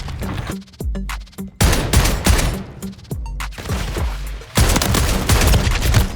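Loud, heavy shotgun blasts from a Reclaimer 18 in Call of Duty Warzone III boom in quick bursts, several close together with short pauses between.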